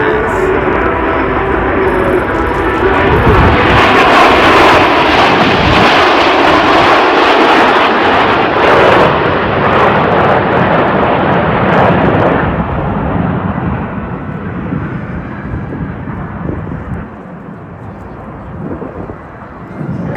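Snowbirds aerobatic jets making a topside pass at the AERO Gatineau-Ottawa airshow, a loud, broad roaring jet rush that swells and holds, then fades away as the formation recedes.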